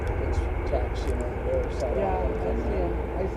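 A Boeing 737 MAX 9 airliner at DFW Airport produces a steady, distant engine roar that holds throughout.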